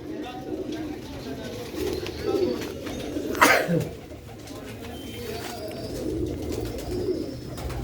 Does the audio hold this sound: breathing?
no